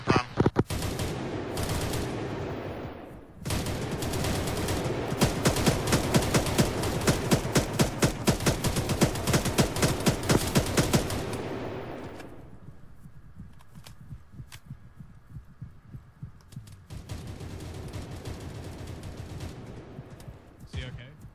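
Arma 3 gunfire crackles in dense automatic bursts, loud and rapid for several seconds, drops away briefly, then returns as a quieter volley of shots.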